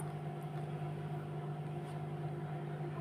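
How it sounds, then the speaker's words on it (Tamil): Soaked poppy seeds (khus khus) are ground into a paste for a gasa gasa gravy, giving a steady, low droning motor-like hum that runs unbroken and fairly quiet for about three seconds, with no voices. "நம்ம இதை பேஸ்ட்டாக அரைச்சி எடுத்துக்கலாம்"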